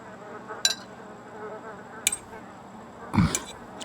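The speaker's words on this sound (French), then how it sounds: "il y a des mouches, j'entendais un petit bzzz" Flies buzzing in The Sims 3 video game, faint intermittent insect buzzes and clicks over a quiet background hum, with a few brief louder bursts.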